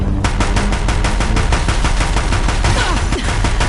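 Rapid, relentless machine gun fire from Deathbringer machines in Horizon Zero Dawn rattles on a bridge, a dense loud burst of shots with no pause.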